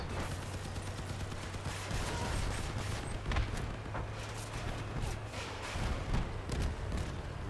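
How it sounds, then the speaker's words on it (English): Gunfire from vehicles in the Crossout game, a steady stream of rapid muffled shots and thuds over a constant engine hum, moderately distant and fairly quiet. "We're shooting at that side"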